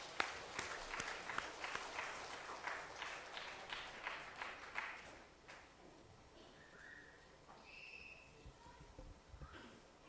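A church congregation claps together during a service, the quick, even clapping faint and distant for about five seconds before dying away into a quiet room with a few soft tones.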